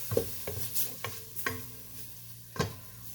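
Chicken sizzling gently as it is stir-fried in butter with garlic and ginger in a pan, with several distinct scrapes and stirs of a utensil at irregular intervals, fairly quiet and without talk.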